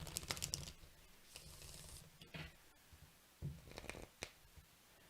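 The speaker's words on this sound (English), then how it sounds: "I got to shuffle" Tarot cards being shuffled by hand, a few quick riffling and crinkling bursts near the start with softer card handling later, close and fairly faint with no talk.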